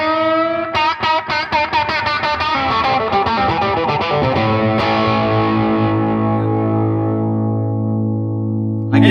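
Heavy-driven electric guitar through a Distortion III drive pedal, a run of fast picked notes and chords that settles into a long, loud ringing chord slowly fading, with one final strum at the end.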